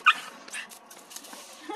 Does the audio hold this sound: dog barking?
yes